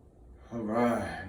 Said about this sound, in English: Deep breath in. Blow it on out.